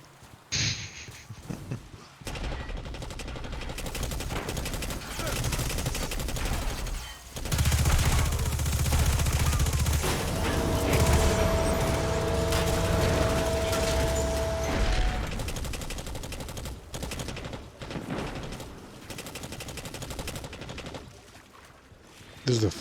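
Sustained gunfire in the sci-fi shooter game Destiny 2, rapid and continuous over a dense mechanical game soundscape with a steady whine in the middle, with talk running over it throughout.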